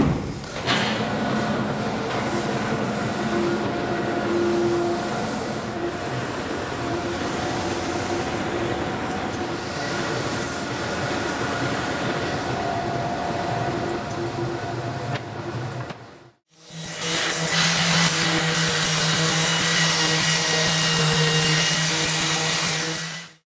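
A large workshop sanding machine works on bed boards with a long, steady droning whir, drops out briefly, then resumes with a louder hum.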